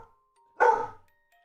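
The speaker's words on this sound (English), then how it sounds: "Buddy, good bark" A protective dog gives one loud, strong bark, close by and alone, in an otherwise quiet room.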